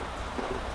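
Rain falls in a constant, uniform wash of hiss on a roadside walking route toward Brasília, brief and unbroken, with no talking over it.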